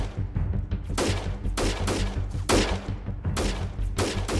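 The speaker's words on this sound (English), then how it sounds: "They are shooting, but I don't know what they are shooting at." Gunfire in the guerrilla warfare game Freeman Guerrilla Warfare: repeated loud volleys of shots in irregular clusters over a steady low rumble, with no talking.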